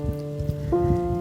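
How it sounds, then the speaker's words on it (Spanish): Steady rain falling and splashing on window panes, a continuous close patter with a faint tonal hum running underneath and no voices. "La lluvia no quería cesar."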